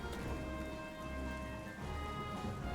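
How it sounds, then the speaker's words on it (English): Steady rain in Zelda: Breath of the Wild, a continuous even hiss of falling drops that holds at a constant level throughout, with no talk over it. "I'm waiting for the rain to stop because it should stop any second now."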